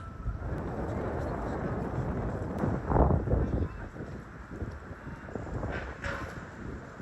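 Gusty seaside wind in Portugal buffets the microphone with a rumbling roar that swells and eases, blended with background chatter and outdoor noise.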